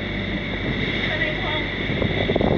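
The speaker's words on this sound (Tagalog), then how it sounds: "Ang lakas ng alon dito." Strong sea waves and gusting wind roar continuously around a boat nearing Mindanao, loud and close with heavy wind buffeting the microphone and a brief voice near the end.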